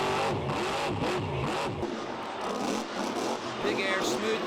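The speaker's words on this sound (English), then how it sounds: "The motor sounds a little funny to me, Scott." A monster truck engine revs hard during a Monster Jam stadium show at Orlando's Citrus Bowl in 2014, a loud, continuous roaring drone filling the arena with surging throttle.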